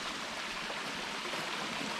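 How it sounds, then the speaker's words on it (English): A stream runs beside a mountain path on Moel Siabod in bad weather, giving a steady, close, full rush of flowing water that continues on its own with no voices. "There's a stream by the side of it."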